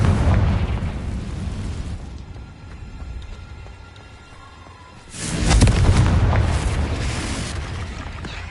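A Confringo blasting spell in the Hogwarts Legacy video game, a loud close explosion with a deep boom that rolls on and fades, followed by a second, heavier blast that rumbles out over several seconds.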